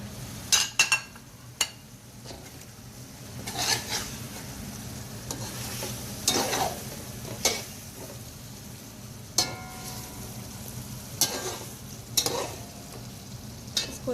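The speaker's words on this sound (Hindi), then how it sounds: "यहाँ पे 1-2 मिनट हाई फ्लेम पे हमने चिकन को इसके मसाले के साथ अच्छी तरह भुना है" Chicken fried with masala over a high flame, with a soft steady sizzle under repeated sharp scrapes and clinks of a spoon stirring the pan, close by and without talk.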